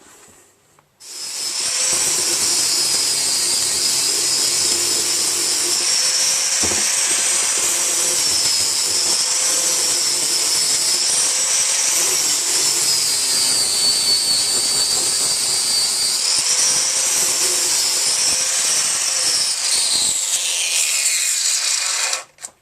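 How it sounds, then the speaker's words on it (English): An angle grinder grinds back welded, perforated exhaust metal on a Suzuki Bandit 1200 open pipe, a loud, steady high-pitched whine that runs continuously for about twenty seconds before cutting off, with no talk over it. "Right, let's grind it back."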